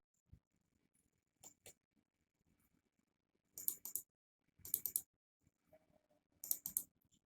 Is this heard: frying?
no